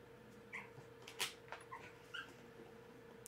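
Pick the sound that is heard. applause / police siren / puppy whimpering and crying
puppy whimpering and crying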